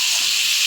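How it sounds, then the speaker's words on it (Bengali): Papaya fries in hot oil with turmeric, a loud, dense, continuous hissing sizzle heard close up in one brief burst with no speech. "পেঁপেটাকে একটু ভেজে নিচ্ছি"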